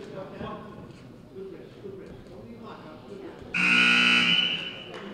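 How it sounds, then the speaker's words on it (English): Loud electronic buzzer sounds in a school gym at a wrestling match, a flat, nasal tone lasting about a second and a half after crowd murmur and talk, then fading back to room noise. "Buzzer, the end of the first period."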